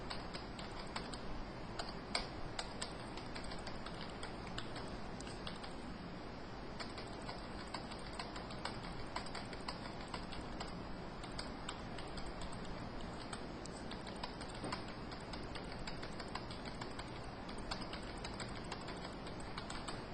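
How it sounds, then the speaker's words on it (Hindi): Steady typing on a computer keyboard while entering numbers into an MS Excel 2007 spreadsheet, with quick continuous key clicks over a constant background hiss, moderately faint and with no one talking. "कोई भी अपनी मर्जी से आप टाइप कर दें"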